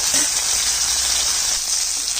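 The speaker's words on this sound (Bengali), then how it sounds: "এক পাশ ভাজা হয়ে গেছে, আরেক পাশ ভাজবো।" A fish fries in hot oil in a pan with a loud, continuous, close hissing sizzle that holds steady throughout.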